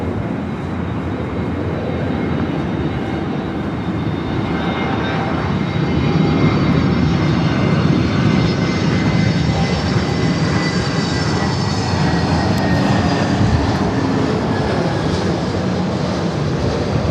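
An airliner lands on runway 24 right at LAX, a loud, steady jet roar with a rising whine that holds close and strong for the whole stretch, with no talk over it.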